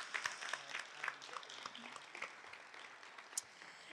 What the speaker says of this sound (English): Let's give them a round of applause and thank them for their participation today.